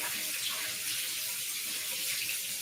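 Running tap water pours steadily over tiny radishes being washed at a sink, a continuous close splashing hiss with no breaks and no talking.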